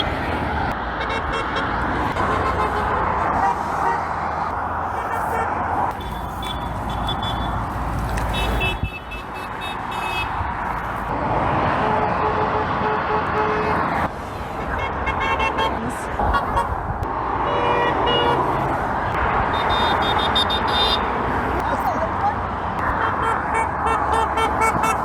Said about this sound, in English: I never really appreciated the sheer variety of car horns that there are out there.